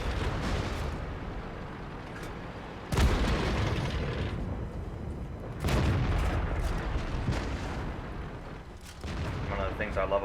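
Heavy tank cannon shots in a video game, three loud booming blasts spaced a few seconds apart over constant battle rumble, with someone talking throughout.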